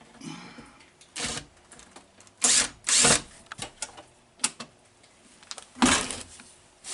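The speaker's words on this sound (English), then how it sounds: "We'll just take those two screws out." Screws are backed out of the vacuum valve on a 1970s–80s Mercedes-Benz door lock with a power tool, giving several short whirring bursts separated by pauses and small clicks, close and clear with no speech.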